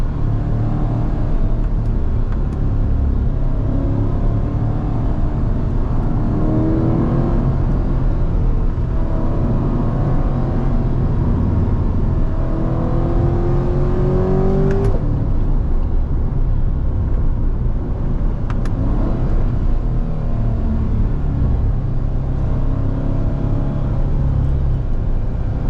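A Corvette C8 Dubai Edition revs from inside the cabin with a loud, constant engine drone and rumble, its pitch climbing and then dropping sharply on downshifts.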